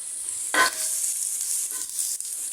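Garlic sautéing in a little oil for barley fried rice, a brief steady sizzle broken by a few short stirring scrapes.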